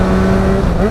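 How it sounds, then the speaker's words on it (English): Yamaha FZ6R inline-four motorcycle with a loud, steady exhaust note, a close, continuous engine drone held at a constant pitch for one second. "As you can hear, this is the exhaust note that everybody wants."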